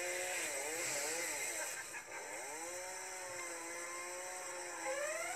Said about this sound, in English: Oh god, he brings out the chainsaw.